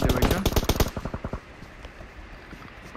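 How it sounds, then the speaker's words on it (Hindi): Automatic gunfire in the battle royale game PUBG, a rapid burst of loud shots in the first second, followed by a few fainter spaced shots before the sound trails off into quiet. "राइट में गोलियां चलती है, शायद नेमेसिस वाले फायर कर रहे हैं"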